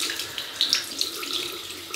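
Running tap water splashes steadily onto a synthetic shaving brush being wetted at a sink, a continuous close hiss and patter with no talking.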